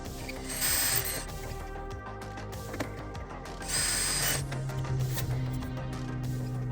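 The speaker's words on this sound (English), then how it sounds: "I'll drill this hole here." A power drill whirs steadily at close range, with two louder high-speed bursts as the bit cuts through material, and mechanical grinding tones between them, while drilling holes for nut plates during an aft baggage installation on a RANS S-21 aircraft.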